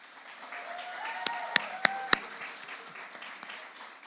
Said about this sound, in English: So can we just get a massive applause for those guys?